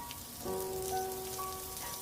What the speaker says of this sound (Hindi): एकदम से बारिश भी शुरू हो जाती है।